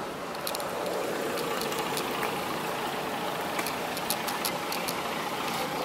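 A car engine idles steadily during a foam air-conditioning cleaning, with a low, even hum and faint light ticks and rattles, moderately close and with no voices.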